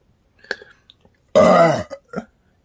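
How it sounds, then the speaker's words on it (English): One loud, close burp rolls out for about half a second, framed by a few faint mouth clicks and small throat sounds before and after. "I just really burped for no fucking reason."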